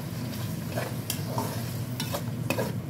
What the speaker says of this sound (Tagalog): Ating ginisang dried taro leaves.